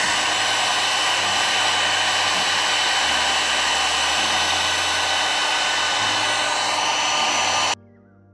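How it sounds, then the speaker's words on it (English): A heat gun blows a steady, loud airy roar while warming an AP1 Honda S2000 headlight housing, running unbroken close to the end and then cutting off abruptly. "I'm just gonna try and heat this with a heat gun and see how far we can get with that"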